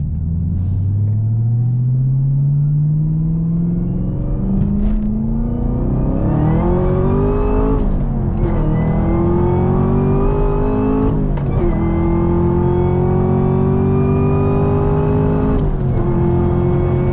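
A manual Camaro ZL1 pulls hard from inside the cabin, its engine droning and climbing in pitch through several gears with brief dips at each shift, loud and continuous for the whole stretch.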